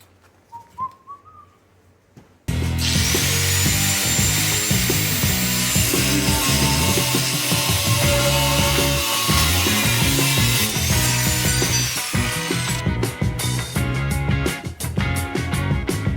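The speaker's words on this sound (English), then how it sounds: "All right, let's cut these legs." Legs for a shooting barricade being cut with a saw: after faint outdoor bird chirps, a loud, close, continuous cutting whine starts abruptly and runs steadily to the end.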